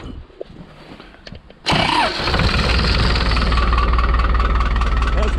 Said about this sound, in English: this little tractor, it sure starts good